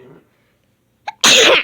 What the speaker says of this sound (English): The sneeze messed me up.